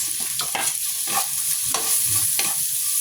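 Garlic and onion sauté in a hot pan, a close, continuous sizzle with a high hiss, punctuated by several quick spatula scrapes and stirs.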